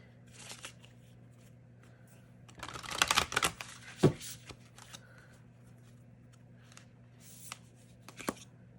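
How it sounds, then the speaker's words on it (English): Oracle cards being shuffled by hand: soft riffles and flicks in short bursts, with one louder flurry in the middle and faint taps around it, close and quiet. "Let's shuffle that one more time."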